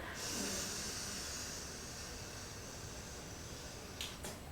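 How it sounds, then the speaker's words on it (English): A slow breath drawn in through one nostril during a breathing exercise: a soft, steady airy hiss that fades gradually, quiet and unaccompanied, with a couple of small clicks near the end. "Breathe in on the same side."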